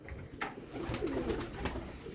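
A pigeon with a cold coos softly nearby with a low, rolling burble, accompanied by faint background rustles.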